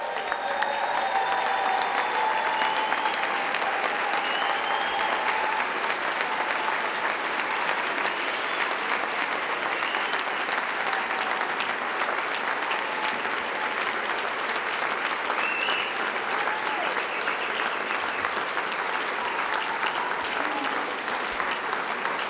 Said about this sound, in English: Stand up and give the UTLA staff a big round of applause.